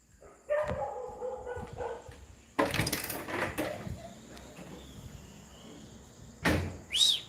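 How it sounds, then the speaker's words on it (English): A dog barks loudly outside in the Philippines, a few sharp barks separated by pauses, with rustling and knocking sounds like a gate or door in between. "I'm going to throw at this freaking loud-ass dog down here"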